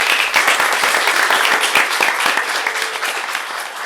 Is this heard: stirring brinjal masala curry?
no